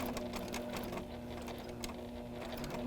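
A sewing machine stitches a quilt block, giving a soft, steady rapid needle chatter with a low hum, running evenly throughout.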